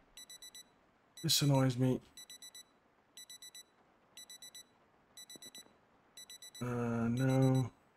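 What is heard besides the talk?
alarm clock ringing in the video game Project Zomboid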